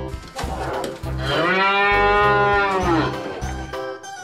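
A cow gives one long, loud, drawn-out moo that swells in the middle and fades away, heard up close and clearly over a steady low background.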